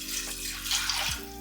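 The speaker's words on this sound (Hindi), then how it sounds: "पानी डाल रही हूँ" Water pours steadily into a small pressure cooker in a home kitchen, a continuous splashing fill with a rising pitch as the pot fills, close and alone.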